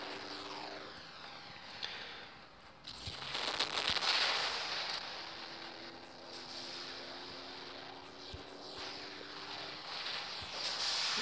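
Weapon fire in the War Robots video game, a stream of crackling, popping shots with sharp bursts near the start and middle over a steady roaring mechanical background, no talk.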